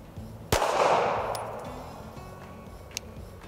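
One sharp, loud pistol shot from a Rock Island Armory STK100 at a shooting range, with a long ringing decay and faint clinks afterward.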